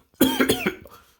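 A single person gives a short burst of about three rough, close coughs in quick succession, trailing off into quiet.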